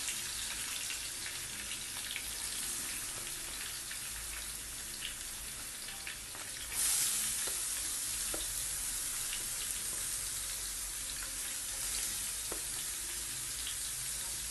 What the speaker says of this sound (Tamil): 2 பெரிய வெங்காயம் அதையும் போட்டு நல்லா வதக்கணும்.